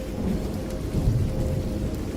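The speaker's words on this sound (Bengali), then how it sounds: "রাতে নীরবতা কেবল বৃষ্টির শব্দে ভাঙছে" Heavy night rain in a Bengali horror cartoon set on the path to a village cremation ground: a dense, continuous downpour with a deep low rumble, loud and close, with no voices.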